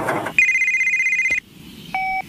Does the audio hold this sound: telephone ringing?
yes